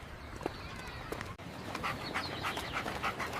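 Puppy panting in a park, rapid breathy pants close by, growing busier in the second half over a steady outdoor background.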